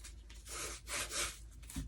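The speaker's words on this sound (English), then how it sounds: "I'm just going to rub with my finger very carefully." A finger rubs gold leaf onto an abstract fluid-art painting, making soft, quiet, scratchy strokes in a few uneven bursts, with no talking.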